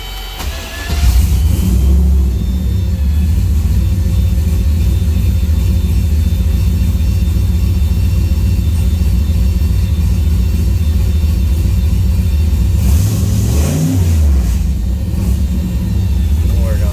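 Turbocharged LS-swapped Mustang engine held at high revs, a loud steady roaring drone throughout with a brief surge near the end, close up.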